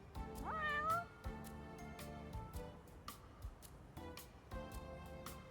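A cat in the video game Lost Judgment meows clearly and fairly loudly once near the start, followed by a quieter steady soundscape with soft clicks and faint tonal game ambience.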